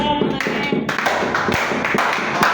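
Church congregation applauding with a steady patter of many hands, a moderately loud, continuous clatter with no voices.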